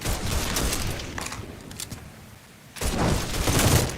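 Heavy automatic gunfire in the video game Mafia 3, loud sustained bursts that drop away into a short lull, then resume with full force, without talking.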